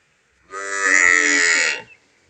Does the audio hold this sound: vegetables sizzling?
no